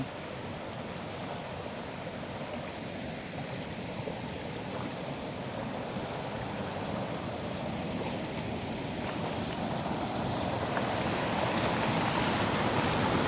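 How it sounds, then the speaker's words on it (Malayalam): Water tumbles down small waterfalls in a continuous, rushing wash that holds steady and grows slightly louder toward the end, with no voices. "എന്താന്ന് നോക്ക്, എല്ലാ വഴിക്കും വെള്ളം ചാടി വരുന്നില്ലേ."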